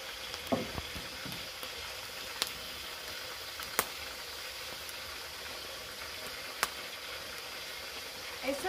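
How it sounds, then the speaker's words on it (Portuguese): Pork ribs pre-fry in a pot on a wood-fired stove for feijoada, a steady close sizzle with scattered pops and small crackles throughout. "E em seguida a gente vai estar colocando a costelinha que está dando uma pré-fritada."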